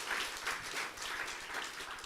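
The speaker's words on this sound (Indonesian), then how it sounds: "Tepuk tangan yang paling meriah untuk Tuhan." A church congregation applauds during a Sunday sermon, with brief, moderately loud clapping in soft, rolling waves.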